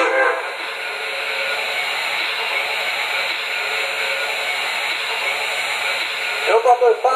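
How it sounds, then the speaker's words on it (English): Idle sounds from an MTH PS3 Pennsylvania K4 Torpedo model steam locomotive: a steady hiss with faint tonal hum running throughout, ending in a few quick louder chuffs. "Here's some idle sequence sounds."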